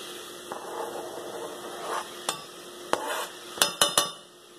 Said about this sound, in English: I'm going to go ahead and drop the garlic in on top of the spinach there